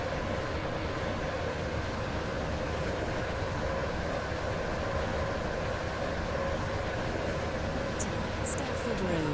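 A Roblox Stepford County Railway train of five coaches runs along the line, a steady, loud, unbroken rumble of wheels and motor noise throughout, with a faint tonal whine near the end.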